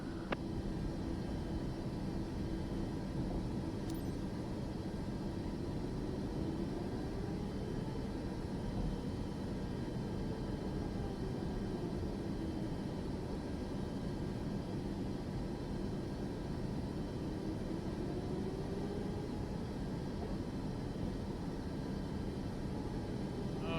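A Boeing 737 jet in Microsoft Flight Simulator 2024 on a freelance flight from Miami, with a steady, even engine roar and faint slowly rising and falling tones running through it.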